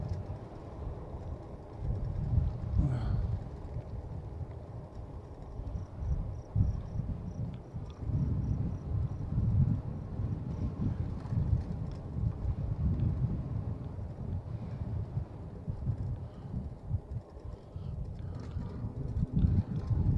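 A southerly wind during an outdoor bicycle ride, heard as a continuous low rumble of wind buffeting the microphone, with faint insect chirping in the background.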